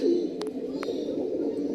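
Domestic pigeons gathered among people, with two or three short soft coos rising over a steady low background hum, the calls brief and moderately close.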